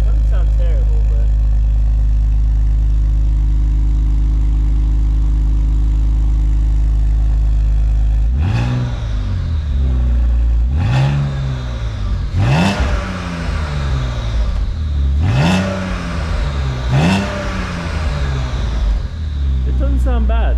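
BMW ZHP with the resonator removed and a modified muffler, idling steadily, then revved hard in five repeated bursts, each rising and falling, loud and close.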